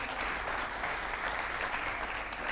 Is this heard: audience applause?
yes